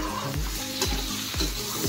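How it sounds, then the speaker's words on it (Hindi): Squash frying with spices in a pan, a continuous sizzle with several scraping stirs of a spoon, close and alone. "तो अभी ये स्क्वाश को पकने देगा, उसके बाद इसमें मेट डालेगा"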